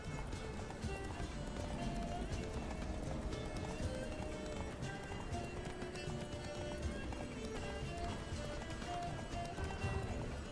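Geralt's horse gallops in The Witcher 3: Blood and Wine, a steady, driving rush of hoofbeats that runs continuously under layered in-game ambience and music.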